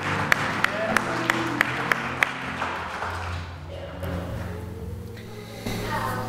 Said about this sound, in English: we want to give God a round of applause, a thanks for all the mothers in our lives